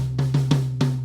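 Drum kit phrase played on the high tom: a flam, two sixteenth notes and two eighth notes, each resonant hit ringing with a sustained pitched tone, close and alone, cut off by the next stroke.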